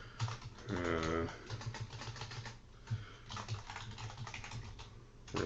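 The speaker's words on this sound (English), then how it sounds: "going to type operation 1 into the program comments" Steady, fairly close typing on a computer keyboard as program comments go into CAM software, with brisk irregular key clicks running throughout and a brief muffled voice-like sound early on.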